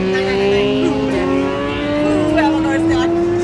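Two small motorcycles ride alongside on a motorway, their engines a steady, slowly rising whine over constant road rumble heard from inside a moving camper van.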